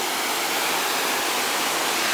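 Steady, dense rushing of a waterfall in Chapada dos Guimarães, Mato Grosso, fills the air without pause, a broad roar with no voices or other sounds over it.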